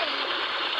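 A child splashes while bathing in a village water tank, a bright, continuous wash of sloshing water close by with no clear gaps.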